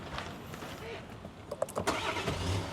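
An Everest Platinum's engine cranks briefly and catches, settling into a low rumbling idle.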